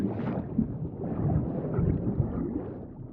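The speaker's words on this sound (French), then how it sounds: "Ce n'est pas le bon jour pour sortir. Une terrible tempête se lève." Wind and thunder rise as a storm builds over the sea, heard as a continuous deep rumbling roar with gusty buffeting and no voices.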